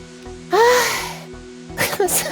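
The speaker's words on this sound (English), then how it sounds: "So I've been like sneezing for like the past... since I woke up" A person lets out a sharp sneeze, breathy and close, followed by a brief pause and another short burst of vocal noise.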